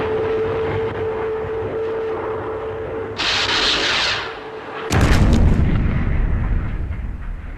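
Bursts of aircraft gunfire strike a target in a Thunderbirds sound effect: a dense crackling burst, then a louder, heavy booming rumble that fades, with no talk.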